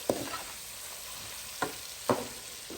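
Chicken with garlic-ginger paste frying in olive oil over low flame: a steady, fairly quiet sizzle with three sharp stirring scrapes spaced through it, no talking.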